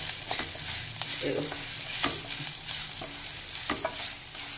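Sesame seeds crackle in hot oil for a tempering to go into a roasted white brinjal chutney, a steady close sizzle with light stirring scrapes and small pops scattered throughout.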